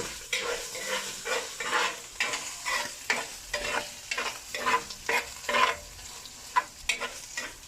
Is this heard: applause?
no